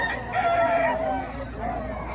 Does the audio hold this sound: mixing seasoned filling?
no